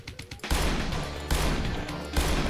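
Three loud gunshot blasts in The Golden Souls (Remastered), a Doom-style shooter, each a sharp crack followed by a long roaring decay, evenly spaced less than a second apart.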